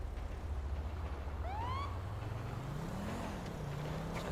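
A basic Highway Patrol police car in a video game cruises along with a low engine drone that slowly rises in pitch, while a brief siren-like whoop sweeps upward partway through.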